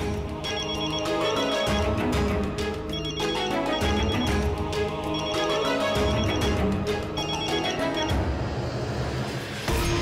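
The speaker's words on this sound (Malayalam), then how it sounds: "രാജേശ്വരി വർമ്മ, ഇവരെന്തിനാ എന്നെ വിളിക്കുന്നത്?" A telephone rings with an incoming call, a loud, continuous repeating ring pattern filling the whole span with no talking.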